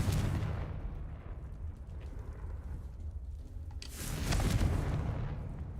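A Confringo fire spell blast in Hogwarts Legacy, a broad rumbling explosion with crackling that swells again near the end, loud and close with no talking.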